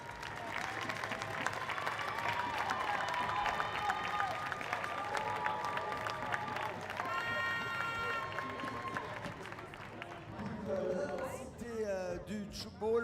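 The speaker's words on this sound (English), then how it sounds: "On peut les applaudir bien fort encore une fois." An indoor arena audience at an international tchoukball Nations Cup match, applauding in dense, sustained clapping that fills the whole stretch, with raised voices and cheering emerging toward the end.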